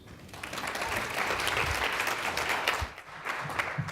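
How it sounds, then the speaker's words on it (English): A conference audience at a health policy leadership summit applauds after a presentation, a full, sustained wash of clapping that dips briefly near the end and then resumes. "I'm going to give her another round of applause"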